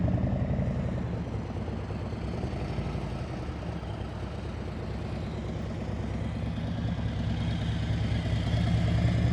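A motorcycle engine runs at low speed during an advanced slow-speed riding practice in Michigan, with the engine shaking. It makes a steady, close, low rumbling drone that continues without a break.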